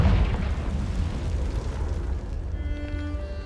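Confringo fire spell from the video game Hogwarts Legacy: a loud booming blast at the start that rolls into a sustained rumbling, crackling decay over a few seconds, with a faint tonal game sound emerging near the end.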